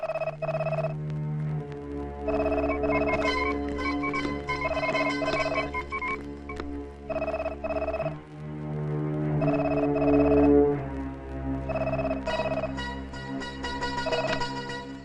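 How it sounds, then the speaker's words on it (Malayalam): An old telephone bell rings in repeated bursts with short gaps between them, loud and clear over a background music score in a house setting, with no talking. "ഫോൺ ബെല്ലടിക്കുന്നു"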